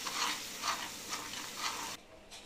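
Ginger-garlic paste and onion paste frying for an Andhra-style chicken curry, stirred in steady sweeping strokes, each pass bringing a loud burst of sizzle before a sudden drop to quiet near the end.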